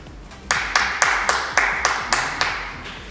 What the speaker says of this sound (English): You all may clap now.